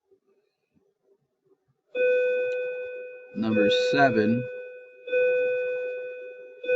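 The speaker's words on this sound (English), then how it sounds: "That's just the bell for coming into school here." A school bell sounds for the start of the school day, a sustained electronic ringing tone that comes in two long stretches, loud and steady, with a person speaking briefly between them.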